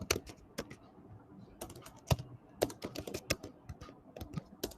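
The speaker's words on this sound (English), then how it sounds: "Somebody's typing. Can you mute?" Computer keyboard typing during an online revision session, a rapid irregular run of close clicky keystrokes with no voice over it.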